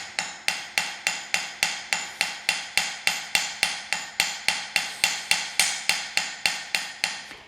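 Hammer forging bronze jewelry in a studio, a steady run of sharp metallic strikes at an even rhythm of about three per second, close and clear with no talk.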